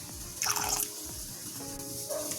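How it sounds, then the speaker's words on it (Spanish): A small splash of vinegar and water is poured into leftover meat marinade, giving a brief close liquid pour and dripping with a sharper splash burst near the start. "vamos a agregarle un chorrito de vinagre, un chorrito de agua"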